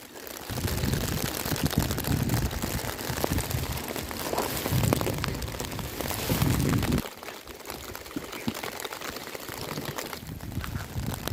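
Steady rain falling at night around a catfish fishing spot, a dense continuous hiss with patters on nearby surfaces, loud throughout and briefly quieter near the end, with no talk.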